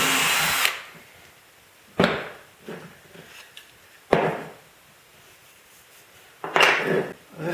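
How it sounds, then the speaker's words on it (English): A small drill bit bores a hole through a workpiece, likely on a rotary tool drill press, in four short, loud whirring bursts separated by quiet pauses. "I use a small drill bit and drill right through."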